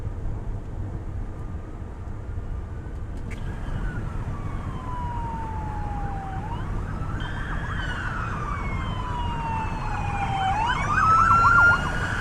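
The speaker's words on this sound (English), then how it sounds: "he's got red lights and sirens" An ambulance on an Austin highway runs its red lights and siren, a wailing tone sweeping slowly down and then rising again, steady and fairly close, over a constant rumble of traffic.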